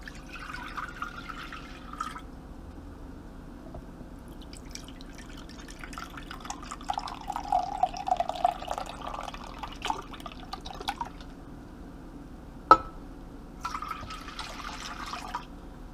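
Chicken broth is poured from a measuring cup into a crock pot, a gentle splashing trickle that builds in the middle and then thins to a few scattered drips, heard alone in a quiet kitchen.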